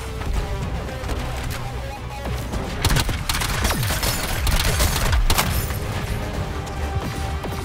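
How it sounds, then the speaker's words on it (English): Missile strike explosions in the superhero shooter Suicide Squad: Kill the Justice League, a dense, loud barrage of blasts and crashes that rumble continuously, with several sharp impacts standing out. "Initiating missile strike."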